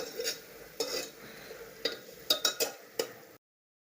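A spoon scrapes and stirs through a layer of vegetable biryani in a pot, in a series of short, irregular scraping strokes heard up close with no talking.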